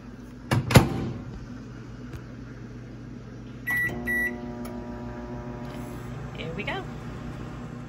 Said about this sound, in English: So I'm gonna now pop this in the microwave for 60 seconds.